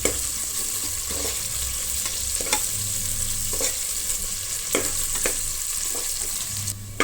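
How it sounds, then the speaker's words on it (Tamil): Chopped onions frying in hot oil in a pressure cooker for Hyderabadi chicken biryani, a continuous close sizzle broken by irregular clicks and scrapes of a stirring spoon, with no talking. "வெங்காயமும் நல்லா பொன்னிறமாக வர வரைக்கும் வதக்கிக்கணும்"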